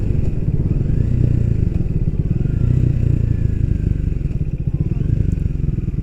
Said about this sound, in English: so let's test the on-off throttle